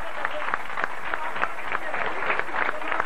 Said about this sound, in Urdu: اگر تو آپ سب میری اس بات سے متفق ہیں تو ایک دفعہ تالی بجا دیجیے